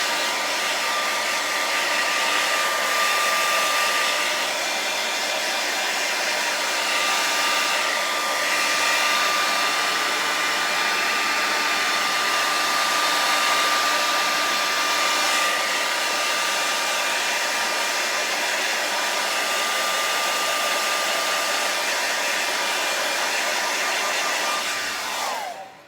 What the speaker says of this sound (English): Here I'm just drying it off with a hairdryer.